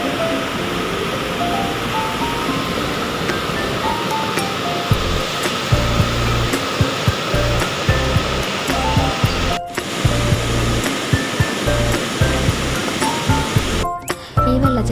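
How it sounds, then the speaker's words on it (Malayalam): A small waterfall in Thumbarassery village, Kuzhur, pours in a loud, continuous rush of falling water that fills the whole stretch without a break. "ചേട്ടം കുഴൂർ തുമ്പരശ്ശേരി ഗ്രാമത്തിലെ ഒരു ചെറിയ വെള്ളച്ചാട്ടമാണ്."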